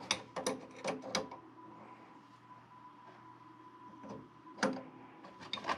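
Brass cap fitting being unscrewed at the bottom of a Whirlpool ND50T122-403 water heater thermostat: faint ratcheting and metallic clicks in short bursts, close and quiet, with scattered clicks later.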